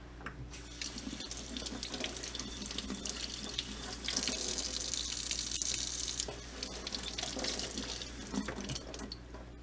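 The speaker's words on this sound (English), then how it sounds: "And then you're gonna wanna rinse the mesh." Tap water runs steadily into a sink while the mesh filter of a Teavana Perfectea tea maker is rinsed, a continuous close splashing hiss that swells brighter midway as the stream hits the mesh, with no talking.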